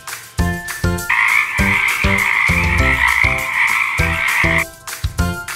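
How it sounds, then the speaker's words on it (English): Frogs at a lake croaking loudly and close, with rhythmic pulsed croaks repeating throughout and a sustained buzzing trill running through the middle, with no voices. "The lake has 7 frogs."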